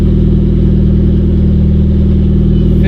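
A Nissan KA24DET engine idling, a loud, steady, low mechanical drone with an even pulsing rhythm held throughout at close range.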